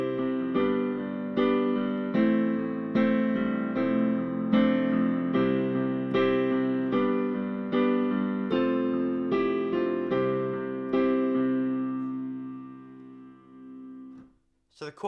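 Opening of a song played on a solo instrument, likely piano, in steady repeated chords and bass notes across about twelve seconds, fading to a soft tail with a short noise at the very end.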